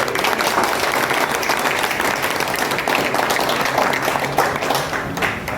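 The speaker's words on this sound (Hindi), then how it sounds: "ताली बजाने" Steady applause from an audience at an inauguration ceremony for a rickshaw union, dense clapping continuing throughout at even strength with a faint voice underneath.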